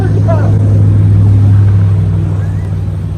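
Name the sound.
Toyota Tacoma truck accelerating off-road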